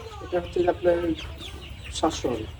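Hybrid Sonali chickens on a poultry farm cluck in several short bursts, with a louder pair of calls near the end, over a low background hum; no talking.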